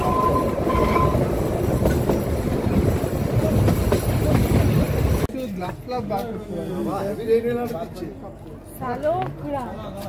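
The Kalka-Shimla toy train rumbles along steadily on its rails at first. Then the rumble gives way to passengers talking aboard the train.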